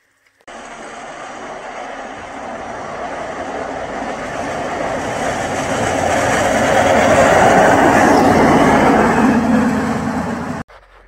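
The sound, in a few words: train passing through a tunnel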